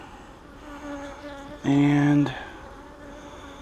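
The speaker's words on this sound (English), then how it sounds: "there's several bees in there" Bees buzz inside a hive in a Nicot queen rearing setup, a low drone that swells into one loud close buzz near the middle before fading, with a brief spoken word.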